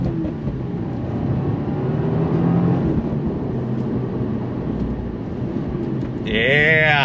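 A 2024 Subaru WRX TR accelerates under throttle, with a steady engine and road drone heard from inside the car. A voice speaks over it and the engine note swells near the end.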